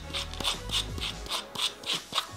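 A screw bit snaps and locks into the chuck of a HOTO cordless brushless drill, giving a close series of quick rubbing, ratcheting clicks in a steady rhythm with a low hum underneath.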